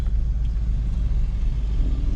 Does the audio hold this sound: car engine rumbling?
yes